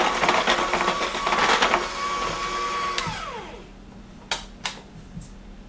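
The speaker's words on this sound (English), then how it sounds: "So gently mix this in." Cake batter for a spiced mango tres leches cake being gently mixed in a bowl, a soft continuous scraping and whirring that slows and fades, followed by a few light taps.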